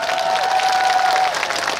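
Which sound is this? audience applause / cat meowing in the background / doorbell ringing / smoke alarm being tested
audience applause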